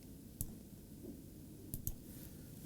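Chalk tapping and scraping on a board during a mathematics lecture, a few sharp clicks standing out over a quiet room murmur.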